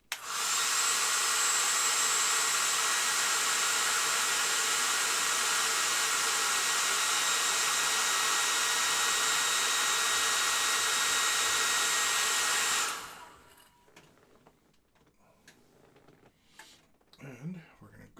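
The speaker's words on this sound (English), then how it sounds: "I'm going to grab my hair dryer real fast. It's going to get noisy for a second" A hair dryer blows steadily and loudly for about thirteen seconds to dry paint on a miniature, then cuts off, leaving quiet room noise with some faint handling sounds.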